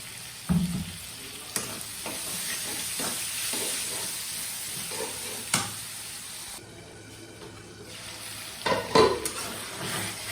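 Chopped tomato cubes sautéing and sizzling in a pan, a steady frying hiss with scattered stirring scrapes and a few louder clanks near the end, no voices.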